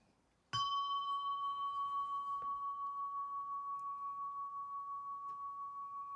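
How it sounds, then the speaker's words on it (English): A single bell is struck once, leaving a clear, pure ringing tone that sustains and slowly fades over several seconds in a quiet room. "You got to hear this bell."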